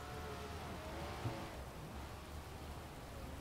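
Steady rain hiss from Forza Horizon 4 plays as a continuous, even wash of noise throughout, with faint engine tones underneath and no talk.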